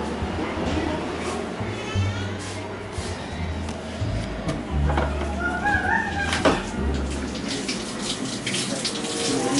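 Water runs steadily from a shower in a home bathroom, a continuous splashing rush with a few brief thumps and faint chirps mixed in, close and fairly loud.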